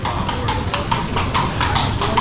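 A horse's hooves clip-clop in a steady rhythm on a town street in Bruges, Belgium, close and clear over a background of street ambience.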